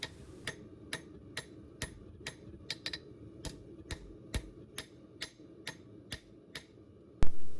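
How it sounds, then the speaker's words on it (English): A light hammer strikes a hot steel kiridashi blade on an anvil in a steady, evenly spaced rhythm of about sixteen crisp close blows, ending with a louder burst. "I'm just going to use the light hammer again and flatten down the sides"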